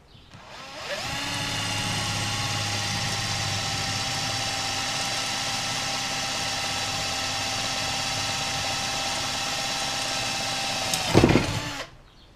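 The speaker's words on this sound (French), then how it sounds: "Et je vais percer un deuxième trou ici." A power drill boring a second hole in a homemade float-tube rod rest, a steady loud whine holding for about ten seconds close up, then a rough grinding burst as the bit breaks through before stopping.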